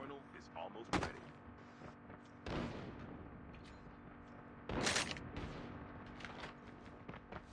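Gunfire in a ranked Call of Duty: Mobile match, with a few heavy, booming shots spaced a couple of seconds apart and a loud burst near the middle over a steady in-game background.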